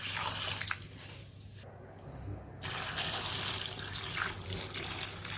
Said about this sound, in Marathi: द्राक्षे बुडतील तेवढं पाणी टाकायचं